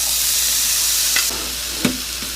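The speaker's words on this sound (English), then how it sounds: "add our frozen peas." Frozen peas hit a hot frying pan of fried rice, giving a loud steady sizzle with a couple of sharp scraping stirs of the utensil against the pan.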